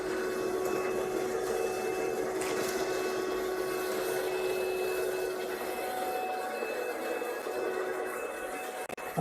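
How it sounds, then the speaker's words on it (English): A vacuum cleaner runs steadily with a constant whine, sucking up debris beside a sycamore log, with a few brief bumps and scrapes near the end. "I'm trying to vacuum up as much as I can here without tipping this whole thing over"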